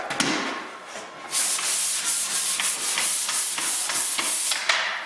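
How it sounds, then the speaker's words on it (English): Sanding drywall joint compound over nail heads produces a close, loud, continuous abrasive rasp with short rhythmic back-and-forth strokes, alone without any talking. "sand the nails before we sand the flats"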